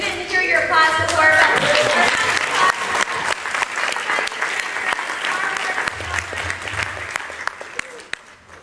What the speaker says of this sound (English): So, Dave, you didn't hear your applause before.